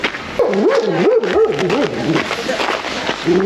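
Dogs bark and yelp excitedly close by, with whining, howl-like calls rising and falling over a few seconds.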